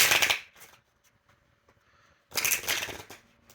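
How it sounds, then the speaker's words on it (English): A tarot oracle card deck being shuffled by hand, two loud bursts of riffling cards at the start and again near the end with a quiet gap between, close and alone. "This is the Angel Numbers Oracle, and I'm just going to shuffle it once."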